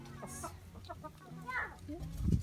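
Free-range backyard chickens on a rural property cluck in short, scattered calls, with a louder burst near the end over faint outdoor background noise.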